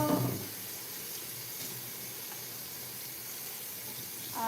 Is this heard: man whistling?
no